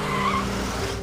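Car tires skid in a loud, continuous screech during a film scene in which a driver heads toward a truck, the squeal holding steady for about a second.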